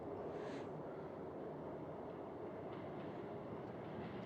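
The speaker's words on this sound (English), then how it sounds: "That's a real subway car." A real subway car runs steadily on its rails in the 1963 film Charade, a loud, continuous rumble with a faint clickety rattle and no voices.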